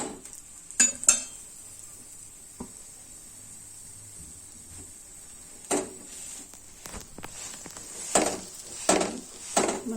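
An aloo paratha spread with ghee is flipped and fried on a pan: a faint, low sizzle runs underneath scattered utensil clinks and scrapes, with a few louder knocks from the turning.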